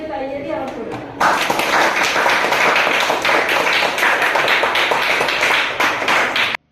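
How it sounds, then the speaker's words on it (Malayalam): Children at a school event applaud together, a dense sustained clapping that starts abruptly after a brief spoken introduction and continues loudly for several seconds before cutting off. "അവർക്ക് നല്ലൊരു കയ്യടി അവർക്ക് കൊടുക്കാം."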